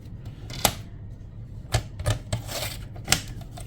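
Paper being cut into card pieces, heard as a few sharp, close clicks and snaps at irregular intervals over a quiet background.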